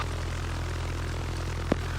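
Piper Warrior light airplane on its takeoff roll at Goodspeed airport, Connecticut, the steady propeller engine drone droning continuously near and loud, with a single brief knock late on.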